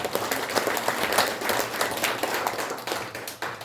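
A smaller group at a Korean ceremony applauds a cultural organization's members, fairly sparse clapping with audible individual hand claps, moderately quiet and tapering near the end.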